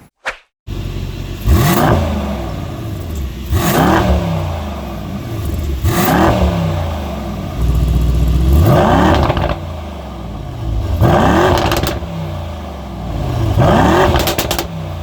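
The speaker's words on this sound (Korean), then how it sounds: "그러면 머플러 사운드 한번 들어볼까요?" A Mercedes-AMG E63S 4Matic engine revs repeatedly through its exhaust, about six loud surging blips at a steady rhythm, each rising and falling with crackling burble, close and alone.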